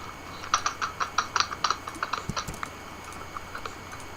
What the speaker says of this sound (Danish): det kan godt være, at jeg kan høre mit tastatur, det larmer lidt